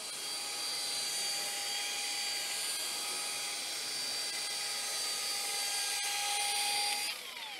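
A car paint polishing machine runs continuously, a loud, steady high-pitched whine with a constant hum, close by, easing off slightly right at the end, with no talking.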